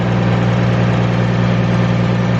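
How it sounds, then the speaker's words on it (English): A tractor engine idles steadily nearby, a continuous low, even rumble with a constant throb and no changes in pitch, heard alone without talk. "Isla, do you like this tractor?"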